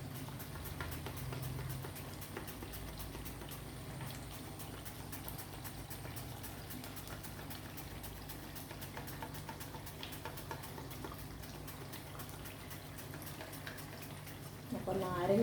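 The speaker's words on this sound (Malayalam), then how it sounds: "എണ്ണ തിളച്ചുകൊണ്ടിരിക്കുന്നത്." Coconut oil boils in an iron pan while banana is fried, making a continuous faint crackling sizzle with fine ticking pops that stays steady throughout.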